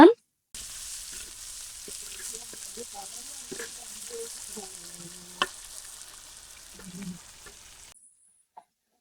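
Green chilies sizzle and crackle steadily in a hot pan for about eight seconds, a continuous frying hiss with a few stirring clinks and scrapes. The sound starts and stops abruptly.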